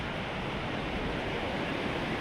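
Water flows steadily at a temple entrance in North India, a constant broadband rush heard up close with no voices.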